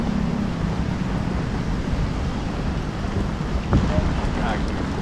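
Heavy rain falling on a wet, flooded morning outdoors, a broad, constant hiss and rush mixed with wind buffeting the microphone, loud and close throughout.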